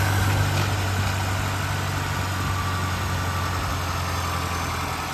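A 2024 GMC Canyon pickup idles with its hood open, giving a steady, loud, low rumbling drone with a faint whine, close by and unchanging throughout, with no speech.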